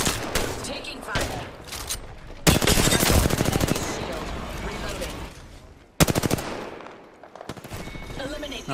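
Gunfire in the Apex Legends video game: sustained automatic bursts and rapid shots, loud and dense, with sharp onsets around the middle and later in the clip, while in-game voice callouts speak over the shooting.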